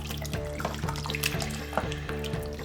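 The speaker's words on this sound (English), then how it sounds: "And give that a nice stir." A chili and water mix is stirred in an Instant Pot, with soft, regularly spaced scrapes and knocks of a spoon against the pot over a low, steady background hum.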